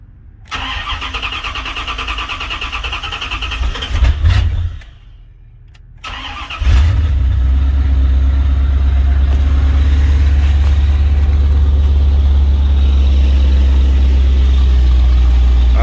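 A Chevy engine with a big exhaust leak cranks and catches, cuts out briefly, then restarts and settles into a loud, steady, uneven idle close by.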